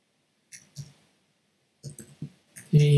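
Crisp, close computer mouse clicks sound while templates are edited in the Pixlr X photo editor: a few separate clicks, then a quicker cluster of them near the end, with silence between and no speech.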